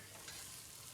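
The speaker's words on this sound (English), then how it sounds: "And we'll wait till the pan heats up and we'll hear it sizzle." Onions frying in a hot pan for a vegan bolognese, a soft, steady sizzle that stays faint throughout a brief moment.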